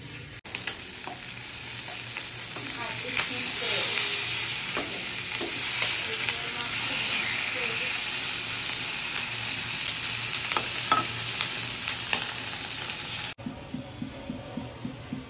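Fish frying in a pan, a steady close sizzle and crackle running nearly the whole time with occasional pops, ending in a quieter stretch of light ticking.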